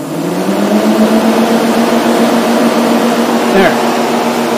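Electric radiator cooling fans on a Porsche 928 run with a loud, steady whirring drone and a tonal hum, a brief word spoken near the end.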